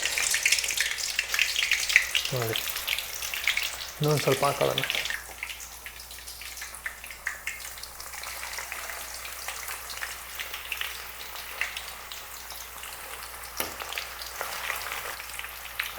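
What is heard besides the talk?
banana slices frying in hot oil, Coorg style chips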